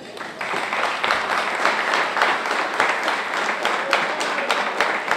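An audience at a pigeon racing club event in Arad applauds, giving a steady, dense clapping that holds throughout with some crowd murmur beneath it.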